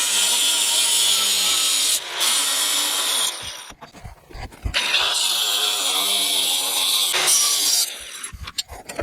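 Abrasive cutoff wheel grinding through the metal of a Razor scooter swing arm, a loud steady high-pitched whine with brief pauses and bursts where the cut shifts, no talking.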